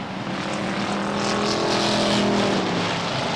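Race cars roaring loudly past at Beech Ridge Motor Speedway in 1991, a dense, steady engine drone that holds strong throughout with no voices.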